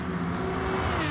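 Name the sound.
race car engine revving out in a racing video game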